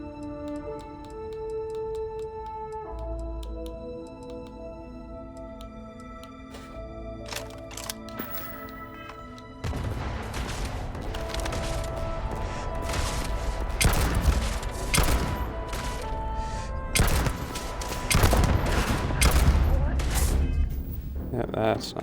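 Repeated gunshots from a weapon in the video game Starfield, sharp cracks in irregular bursts over game music and background ambience, growing denser in the second half, with some speech mixed in.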